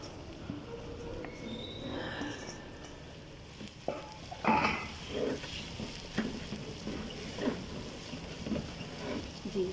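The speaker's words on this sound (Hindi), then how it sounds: "इसके बाद चिकन इसमें हम दोबारा डाल देंगे जो हमने फ्राई किया था।" Fried chicken returned to a hot pan of homemade noodles sizzles steadily, with stirring scrapes and clatters rising midway, a moderate close-up crackle throughout.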